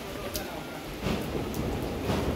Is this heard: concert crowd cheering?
no